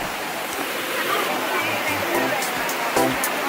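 Steady roar of a waterfall at Plitvice Lakes National Park, a broad continuous rush of falling water, fairly near, with faint voices of a crowd talking underneath.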